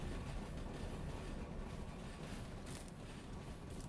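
A long train in the railway game Derail Valley rolls by uphill, a dense, continuous low rumble and rushing roar with faint clatter, steady and loud throughout with no talk.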